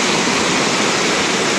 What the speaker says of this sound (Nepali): बाहुबली जस्तो झर्ना